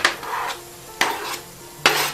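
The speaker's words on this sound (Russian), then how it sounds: "в сковороду, перемешиваю" Three scraping strokes of a utensil stirring tomatoes in a frying pan, each stroke sharp at the start and fading, with a faint sizzle between.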